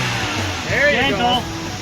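A Toyota Yaris engine runs after being hydro locked, idling and revving briefly in a rising tone while people talk over it.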